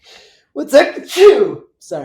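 A single sharp human sneeze bursts out up close, followed by a quick second breathy burst, with a person speaking briefly just before and after.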